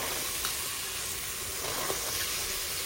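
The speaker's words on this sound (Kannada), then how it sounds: "ಚಿಲ್ಕ್ಸಿರೋ ಕಾಳನ್ನ ಹಾಕಿ ಒಂದು ಸ್ವಲ್ಪ ಫ್ರೈ ಮಾಡೋಣ" Sprouted avare beans, added after tempering, fry in a pan with a dense, continuous sizzle and faint stirring clicks. The sound stays steady and close throughout, with no talking.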